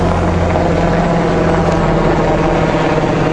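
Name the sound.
big military helicopter flying over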